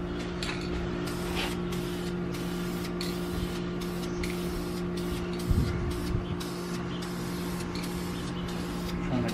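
Spray gun applying a thicker pass of ceramic coating onto car exhaust headers, a steady close hiss with a compressor-like hum underneath throughout, with a brief clunk partway through.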